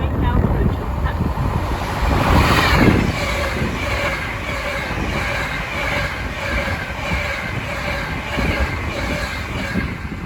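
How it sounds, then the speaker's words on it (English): An Avanti West Coast class 390 Pendolino train rumbles past at moderate speed on the West Coast Main Line at Bushey, with a steady roar, buffeted by wind noise on the microphone. "The next train to pass by is going to be an Avanti West Coast class 390 Pendolino"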